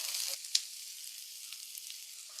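Sliced onions and curry leaves sautéing in oil, a soft hiss that flares briefly at the start and then settles into a faint, quiet sizzle with a sharp clink.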